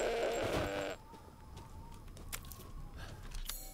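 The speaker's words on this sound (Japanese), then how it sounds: "ヤギがいたわ。" A goat bleats in the video game Resident Evil Village, one loud wavering cry up front before it cuts off, followed by quieter ambient game sounds and faint footsteps.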